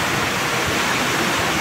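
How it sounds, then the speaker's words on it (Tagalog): Heavy rain pouring down steadily, a dense, unbroken wash of noise that fills the space close by with no voices. "Malakas ang ulan."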